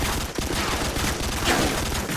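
Rapid automatic fire from a Skorpion submachine gun in Call of Duty 4, a dense, loud burst of overlapping shots rattling steadily for a couple of seconds.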